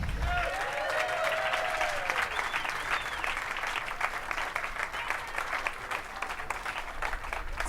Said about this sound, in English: let's give a round of applause for Chad Coleman